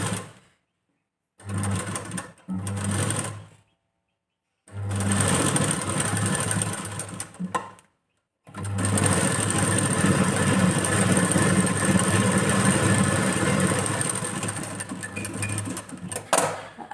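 A sewing machine stitches the front of a katori blouse in several loud, close bursts of rapid whirring, with short silent pauses before a long continuous run.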